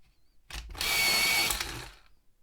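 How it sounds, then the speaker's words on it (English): A pencil being sharpened during a fox face drawing: one brief scrape, then a sustained, close, loud grinding rasp lasting about a second and a half before it fades. "if I sharpen my pencil"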